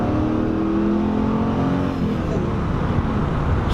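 A Pontiac Firehawk Trans Am with an LS1 V8 engine revs with a steady, loud roar that holds for a few seconds, its pitch sliding slightly as the throttle eases.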